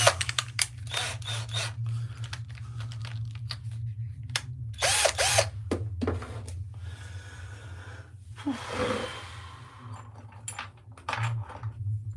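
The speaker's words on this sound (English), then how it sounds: "swap over to the screwdriver" A power screwdriver drives screws into a garden stool in several short whirring bursts with pauses between them, close by, over a low steady hum and some breathing.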